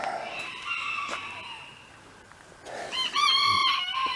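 A rooster crows loudly near the end, preceded by hens clucking and calling in the background.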